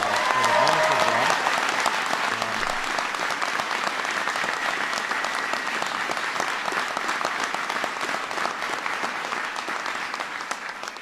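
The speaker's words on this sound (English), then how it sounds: "please give Tolu another round of applause for the wonderful job" Warm applause from an audience for Tolu after she shares her immigration story, sustained dense clapping that holds steady and slowly tapers, with some voices underneath.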